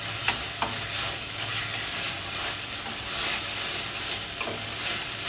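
Ginger-garlic paste and tomato sauté for chicken kheema, with a constant loud sizzle and occasional spatula scrapes and taps against the pan, with no voices.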